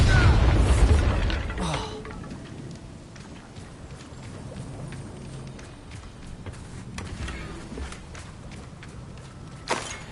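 A Bombarda blasting spell from a Harry Potter video game sets off a heavy, booming explosion at the very start, then fades into lighter game clatter and rumble.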